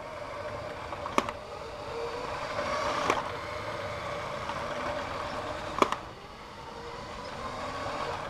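Lego Emerald Night train with an added 9V motor running at full speed, a steady close mechanical whirr and rumble with a few sharp clicks, no talk.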